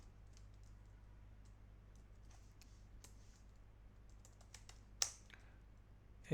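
Keys tapped on a computer keyboard during a WordPress coding session, with scattered soft clicks over a steady low hum and a sharper tap near the end.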